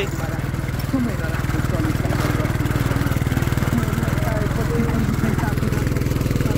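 Scooter engine droning steadily during a night off-road ride in Nepal, a continuous close mid-pitched hum with people talking over it.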